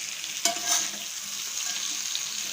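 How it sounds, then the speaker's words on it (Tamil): Onions and dried fish fry in a pan with a steady close sizzle, broken by a couple of brief stirring scrapes near the start, with no talking. "இந்த வெங்காயம் வந்து கருவாடோடு சேர்ந்து நல்லா வதங்கிடணும்."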